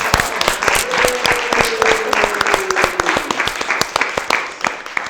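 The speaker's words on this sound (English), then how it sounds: "Round of applause." A room full of people gives a round of applause, sharp individual claps clearly audible over a dense, continuous patter, with a faint voice briefly underneath.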